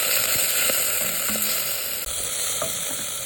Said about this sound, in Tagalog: Maglagay tayo ng ating olive oil. Igisa yung ahos. Sibuyas. And our kamatis.